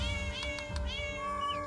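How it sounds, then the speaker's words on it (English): A cat meows several times in the video game The Magister, with rising, harmonic calls over a steady background of game music and ambience, and no one speaking. "So we got us a pussycat, who we are immediately going to go and talk to"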